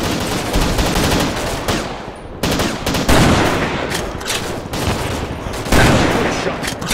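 Rapid gunfire from the video game Commandos: Strike Force, sustained bursts of machine-gun fire with brief gaps, loud and dense, no voices.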